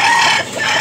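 A black Hennie rooster in Tabunok, Cebu lets out a loud, close crow, a brief strained call that fills the whole moment with no other sound around it.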